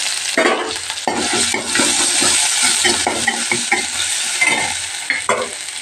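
Mustard seeds and garlic fry in a hot pan with a loud, crackling sizzle, accompanied by frequent scraping and clinking of a spoon stirring against the metal, close up and without speech.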